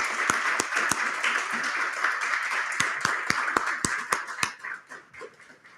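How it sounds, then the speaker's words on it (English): A room of conference attendees applauding for the co-chair at a panel's closing remarks, a dense patter of clapping with several sharp, close claps standing out, gradually thinning and fading away. "for which I want to give a round of applause"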